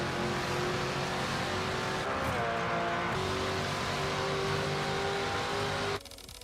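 A Porsche race car engine in Project Motor Racing drones loud and close with a sustained high whine, pitch shifting through gear changes before cutting abruptly near the end; no voices.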